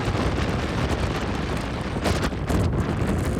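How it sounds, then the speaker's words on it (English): Blustery wind buffets the microphone on a ferry crossing to the islands, a steady loud rumbling roar with stronger gusts surging near the end. "It was a blustery ferry ride over to the islands."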